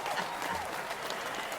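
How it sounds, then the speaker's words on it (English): A brief burst of applause from a talk-show studio audience, steady dense clapping at moderate volume. "Get a little applause there"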